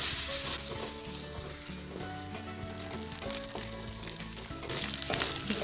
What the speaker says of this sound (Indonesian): Ini akan saya goreng sampai garing.